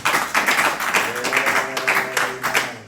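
A church congregation at a Sunday service claps in a rhythmic burst of beats under a sustained musical tone, moderately loud.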